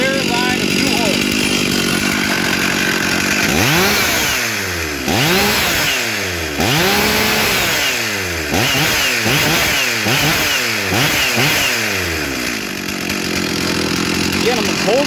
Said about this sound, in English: I'm holding the chainsaw tight to the table.